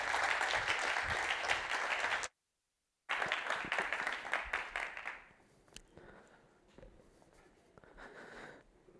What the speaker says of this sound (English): let's round of applause for Gadi as he joins the stage